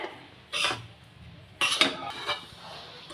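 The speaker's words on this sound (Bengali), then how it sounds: "সমানে খুন্তি দিয়ে সুজিটা নেড়ে চেড়ে নিতে হবে" A spatula scrapes and clinks against a pan while semolina is stirred for laddus, in two separate bursts of metallic scraping with quieter gaps between them, heard up close with no talking.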